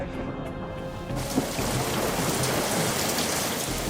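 Steady rain falls outside on a wedding day, heard from indoors as a dense, even patter that thickens after the first second and continues without a break.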